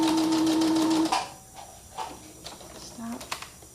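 A sewing machine stitches through a thick fabric scrap coaster, running in a loud close whir for about a second, then stopping for a few quiet clicks and handling noises.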